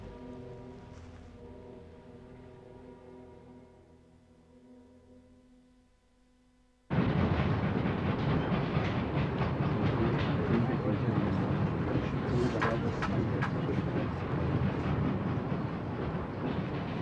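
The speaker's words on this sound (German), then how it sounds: "Unsere erste Reise mit der Eisenbahn." A train travelling by rail at night, a radio play sound effect: a dense, steady rumble and clatter of wheels on track starts abruptly after a quieter tonal passage and continues loud and even to the end.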